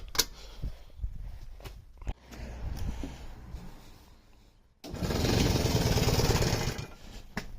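A go-kart engine warms up running rough without choke, sputtering and missing irregularly at first, then settling into a steadier, louder buzzing drone for the last few seconds, close by.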